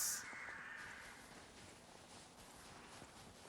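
Crows caw in the Lies of P video game, faint and distant over a steady ambient wash and soft rustling, with no talk.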